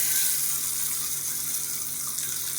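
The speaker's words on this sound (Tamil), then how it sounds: "நல்லெண்ணெய் ஊற்றி இப்போ அதை சேர்த்துக்கலாம்." Sesame oil poured into a spicy garlic and dried red chili chutney, a steady soft liquid trickle and splash running continuously throughout at close range, with no talking.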